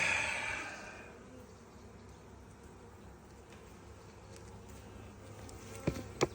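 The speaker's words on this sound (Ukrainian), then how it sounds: "Це бджоли вже залетіли чужі, вони зараз голодніші осінню" Robber honeybees buzz around a hive in autumn, loud at first and then settling into a faint steady drone, with a couple of sharp clicks near the end.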